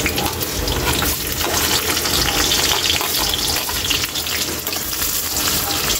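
Garlic dropped into hot cooking oil, alongside ginger browning in the pan, sizzles and crackles in a steady, loud, continuous hiss up close, with no talk over it.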